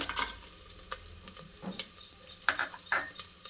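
Dry red chillies and coconut fry in a pan with ginger and garlic, crackling and sizzling close up under quick scraping stirs of a spatula, with no talking.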